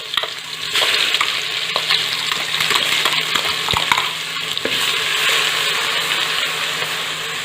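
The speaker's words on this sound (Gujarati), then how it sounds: "આપણે પેસ્ટને આવી રીતે 1 મિનિટ માટે સાતળી લીધેલી છે" Spice paste for pav bhaji sizzles steadily in a hot pan on a low flame, a dense continuous frying hiss with scraping stirs and small clinks running throughout, close and loud.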